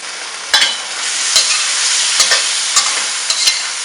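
Green beans stir-fry for a Thai-inspired spicy shrimp dish, giving a loud, steady close sizzle broken by several sharp clicks and scrapes of a utensil against the pan.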